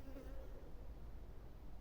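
A carpenter bee's low, steady buzz hums close by while pollinating passion fruit flowers, continuous and faint, with no voices.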